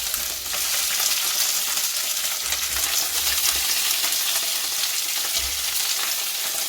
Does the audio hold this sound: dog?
no